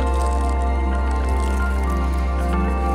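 Feet squelching and sloshing along a flooded path in shallow water at a lotus field, soft splashes and drips over a steady low background hum.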